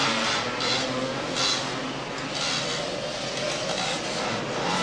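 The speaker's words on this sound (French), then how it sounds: "Joël Bontou est sur un quad Gamma 350." Racing Gamma 350 quad engine roaring at a 1987 European Trike Challenge race in Saint-Malo, a loud steady drone with swells as machines pass, continuous throughout.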